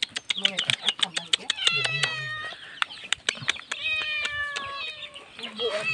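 A cat meows repeatedly in high, wavering cries mixed with clucking from nearby chickens, while people talk over it.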